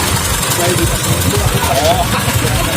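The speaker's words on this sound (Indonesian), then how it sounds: "Rakitan mesin dari Mioje." A custom-built motorcycle powered by a Yamaha Mio J engine idles steadily at close range, a constant loud chugging rumble with outdoor noise and no pauses.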